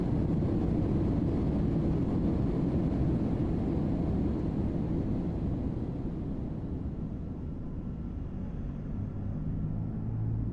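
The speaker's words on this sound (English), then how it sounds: "Starting engine number 2." Engine number 2 of a Fenix A320 in the flight simulator spools up as a steady low rumbling roar with a faint whine, holding constant for several seconds with no voices.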